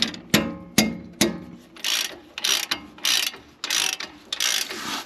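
An extendable ratchet breaking lug nuts free on the front wheels of a 2017-2022 Ford F-250 Super Duty 4x4, with a few sharp clicking strokes followed by bursts of rapid ratcheting, close and clear.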